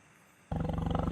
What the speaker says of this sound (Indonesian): tadi sangat jelas terdengar arungan macan atau singa menggaung